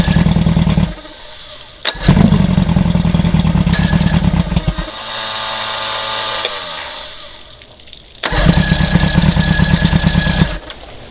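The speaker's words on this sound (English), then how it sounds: "the starter keeps spinning no matter what, so you got to shut the key off" An Evinrude 90 HP outboard engine cranks on a jump starter with no start: the starter motor grinds in rhythmic bursts, pauses between attempts, then whirs steadily, loud and close.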